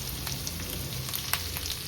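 Green chillies fry in hot oil with chopped ginger, a close, even sizzle with small crackling pops and faint stirring, no voices.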